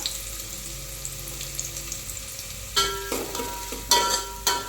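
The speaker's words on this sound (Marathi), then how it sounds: "आणि आता आपण मस्तपैकी कांदा भाजून घेऊया" Chopped onion fries in hot oil as tempering for a Konkan-style fish curry: a steady sizzle breaks into loud bursts of crackling spatter several times near the end, close up, with no talking.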